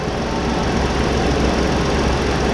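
A 2018 Ford Explorer with the 3.5 L engine idles steadily after an oil change, giving a continuous, even engine rumble close by with no speech.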